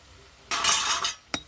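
A spoon scrapes and stirs potato greens curry with coriander leaves in a pan: a close, brief scraping burst, then a short clink.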